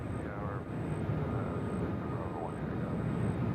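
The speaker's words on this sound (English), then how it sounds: "this is Southwest headed to Phoenix." A Southwest airliner at Nashville International Airport, a steady broad engine roar at a distance, continuous throughout, with a voice talking over it.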